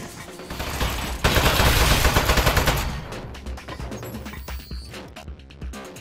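Dense, loud gunfire from the video game Aperture Desk Job, a sustained barrage of rapid shots that swells then continues in slightly quieter bursts for several seconds.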